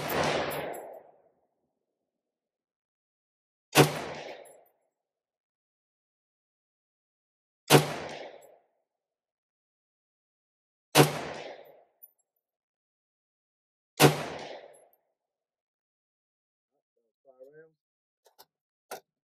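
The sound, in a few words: gunshots from an 18-inch .308 AR-10 rifle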